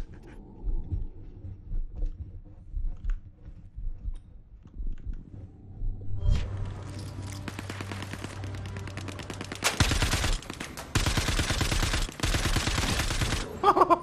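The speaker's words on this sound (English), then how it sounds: "I just put like 30 pistol shots into someone before he died." Pistol shots in the video game Imperium FFA, starting with sparse clicks and low rumble, then turning into dense, rapid bursts of gunfire that grow louder toward the end, with no talk.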